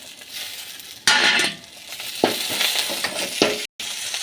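Tomatoes hit hot butter with onions, bursting into a loud sizzle that fades, followed by further sizzling surges and spoon scrapes; a very brief dropout near the end.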